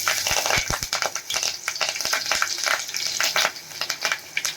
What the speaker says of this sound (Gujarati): તેલ થોડું ગરમ થાય એટલે આપણે એમાં મીઠા લીમડાના પાન એડ કરશું